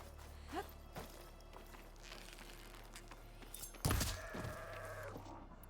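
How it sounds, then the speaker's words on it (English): A sheep in Horizon Forbidden West gives a short bleat, followed by footsteps and a louder burst of in-game noise against a quiet background. "Oh, it's a sheep actually."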